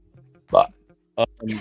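A short, loud burp erupts during a podcast conversation, followed by a second brief vocal burst and a voice.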